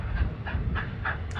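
A train rolls around a curve on a Route 66 rail line, a steady low rumble with faint rhythmic clatter and squeal, moderately near and continuous with no talk.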